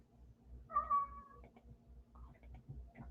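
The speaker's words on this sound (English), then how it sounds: "Do you hear that cat crying?" A cat cries with a short, faint meow partway through, set against a quiet background with a low rhythmic thumping pulse and a few softer, distant mewing sounds afterward.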